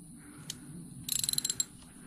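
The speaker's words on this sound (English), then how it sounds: "So we are going to firstly take off the valve cover" A ratchet loosens valve cover bolts on a Suzuki LTZ400 ATV engine, one click and then a quick burst of a dozen sharp clicks, close and fairly quiet.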